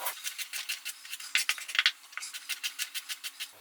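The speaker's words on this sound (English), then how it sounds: "Cut that on the bias to get nice slices that don't roll all over the place" A knife slices small carrots diagonally into fairly thin pieces, giving a quick, regular series of crisp chopping taps against a board, close and fairly quiet with no talk.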